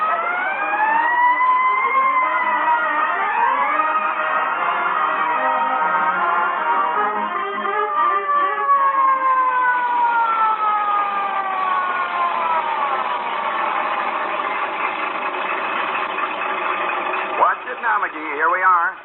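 A fire truck siren wails continuously, rising and falling in overlapping tones over the vehicle's rumble, loud and close for the whole stretch.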